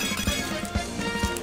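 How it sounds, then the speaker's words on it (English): Smarties candy crunched in a mouth: rhythmic, close crunching chews repeating about every half second, fairly loud against a busy background. "That's the sound of Smarties getting destroyed"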